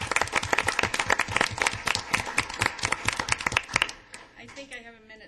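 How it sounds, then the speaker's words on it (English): Applause at a regular council meeting: a room of people clapping steadily in a dense, loud burst that thins out and dies away near the end. "a round of applause for both of you."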